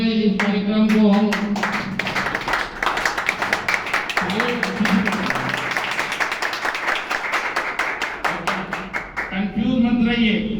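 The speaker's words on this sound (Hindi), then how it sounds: "जोरदार तालियों से इस कार्यक्रम को हम" An audience claps loudly in fast, dense rapid bursts for several seconds, and someone speaks over the start and the end of the applause.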